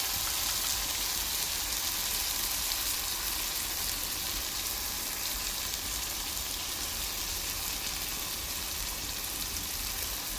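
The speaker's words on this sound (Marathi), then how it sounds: "आता आपण परतून घेऊ त्याला." Vegetable bhaji sautéing in a pan, a steady, even sizzle and crackle of frying filling the whole stretch at moderate level, with no voices.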